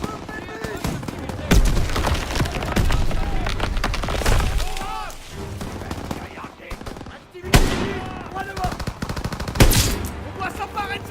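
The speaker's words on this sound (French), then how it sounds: "Des coups de feu!" Dense World War II gunfire in a Call of Duty: WWII factory battle, with rapid machine-gun bursts, scattered rifle shots and booming impacts, loud and close, with shouting voices mixed in.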